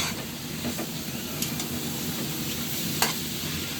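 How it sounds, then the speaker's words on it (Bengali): Cabbage pakoras fry in a pan with a close, steady crackling sizzle, a few brief clinks and scrapes rising above the hiss, no voices. "এই প্রথম আমি পাতাকপি ভাজিটা করতেছি"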